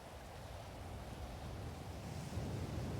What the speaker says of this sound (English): you got the waves and the rain